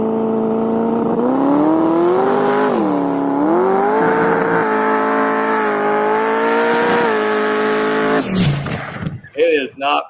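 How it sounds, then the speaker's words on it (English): A truck engine hums loudly with a rising, stepping whine as it passes and briefly loses traction, a sustained close drone for several seconds before cutting off into bursts of excited voices. "So if you listen, it's humming right there."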